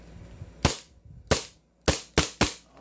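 A Trex Hi-Capa airsoft pistol firing five sharp, loud snapping shots close by, the first two spaced apart and the last three in a quicker run, with quiet handling noise between them.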